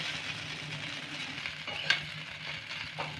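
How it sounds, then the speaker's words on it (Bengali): Whole poppy seeds fry with sliced snake gourd in a pan, making a steady soft sizzle with a few light scrapes and taps from stirring. "পোস্ত দেওয়ার পর একটু ভেজে নেব।"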